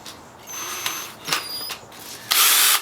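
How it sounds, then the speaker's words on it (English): A power drill on its slowest, high-torque setting whirs into wood in short, separate bursts, starting and stopping several times before a longer, louder run at the end. "I usually put my drill on the number 1, which is a slower speed but more torque"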